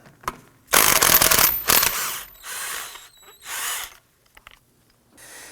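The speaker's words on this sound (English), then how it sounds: "we have a 13mm bolt here for the axle. Go ahead, loosen and remove that." A ratchet wrench clicks rapidly in loud bursts, loosening the 13mm axle bolt at the center of the rear hub on a 2003-2014 Volvo XC90, with short pauses between runs and no talking.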